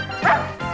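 A dog gives two quick, close yelping barks in a row with a whimpering edge, loud and alone.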